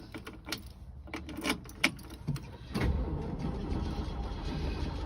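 A 1963 Ford Falcon Futura is cold-started on a cool day. A few clicks and cranking bursts lead to the engine catching, then it settles into a steady, close idle rumble.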